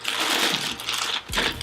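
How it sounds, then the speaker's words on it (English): Sand poured into a plastic bag for a balcony parasol base, a continuous close hiss of flowing grains with a brief break and a plastic rustle near the end. "fill it with sand"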